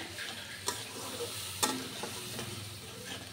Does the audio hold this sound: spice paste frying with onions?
yes